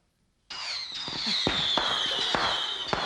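Fireworks sound effect on a children's TV game show: a sudden burst of crackling, whistling rockets and sharp pops, loud and continuous with repeated bangs, no talking.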